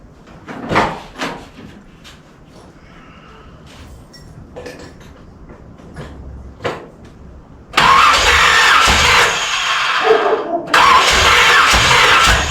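A 1981 Corvette engine cranks without firing, a repeated starter churn that comes in two sustained, fairly loud bursts after a quieter stretch of scattered clicks and handling noises.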